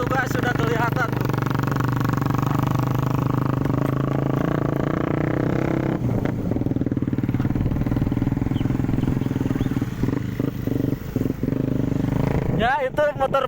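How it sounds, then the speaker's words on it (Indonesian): Honda Vario scooter-style motorcycle creeping slowly along a rough road, a steady low engine drone close by throughout, with people talking over it. "Ya itu motor Vario itu sedikit ngarayap guys ternyata."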